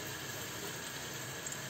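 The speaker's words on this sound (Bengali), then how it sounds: "খুব বেশি ভাজবো না, হালকা করেই ভেজে নেব।" Fish sizzling gently as it fries lightly in a pan of hot oil for a fish and fresh cauliflower curry, a steady soft hiss with faint crackle, close and continuous, no voices.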